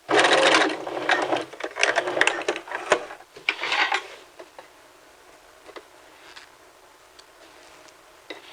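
A sewing machine stitches and backstitches around a neckline, starting with a loud rapid run that turns into choppy bursts and then fades into faint intermittent ticking, close by with no speech.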